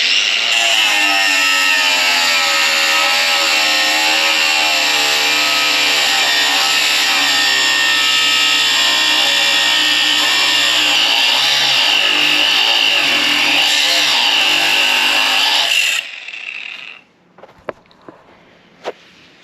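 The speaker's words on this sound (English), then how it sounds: "This would be the worst friggin' angle grinder I've ever used in my life." A Black & Decker cordless angle grinder whines loudly and steadily for about sixteen seconds, pitch wavering slightly under load, then cuts off and spins down, followed by a few sharp clicks and knocks.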